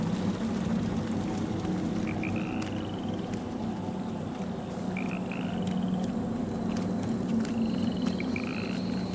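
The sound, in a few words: frog croaking, from video game Lords of the Fallen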